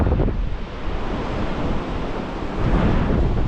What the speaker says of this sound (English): it's breezy up here